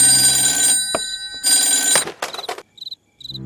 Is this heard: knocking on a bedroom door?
no